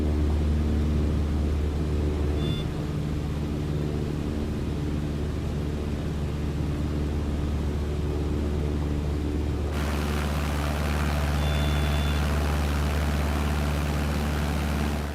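Steady, loud propeller-plane engine drone from Flight Simulator 2020, heard as the aircraft strains to climb near 5,600 feet close to a stall; the unbroken hum fills the whole stretch with no talking.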